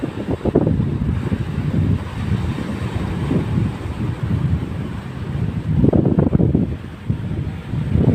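Steady seaside wind at Gopnath buffeting the microphone, rising in gusts with a low roar of surf beneath, no talking.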